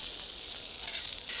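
Red peppers, almonds, currants, raisins and crystallized pineapple for couscous sizzle steadily on a hot plancha, a close, even, hissing fry with no pauses.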